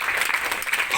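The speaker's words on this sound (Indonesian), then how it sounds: "Boleh tepuk tangan." A crowd claps at a ministerial speech during the inauguration of a religious institute in Kupang, a dense, steady burst of applause from a large audience, brief and moderately loud.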